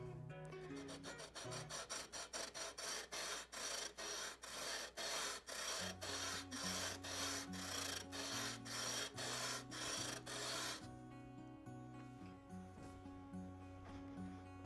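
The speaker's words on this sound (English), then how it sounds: "Got a piece of sandpaper over here on a flat surface that lets me do this a bit easier." Bisque-fired ceramic rubbed on sandpaper laid on a flat surface, a close, steady rasping back-and-forth scrape in quick regular strokes that stops near the end.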